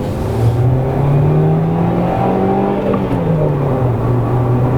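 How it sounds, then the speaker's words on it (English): Small petrol engine of a Chrysler Lancia Ypsilon revving steadily, its pitch rising and falling in smooth sweeps, loud and close with no talk. "the little fizzy petrol engine is very good"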